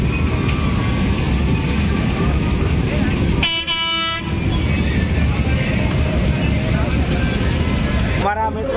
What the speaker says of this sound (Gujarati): આ બોટ હાલે જો.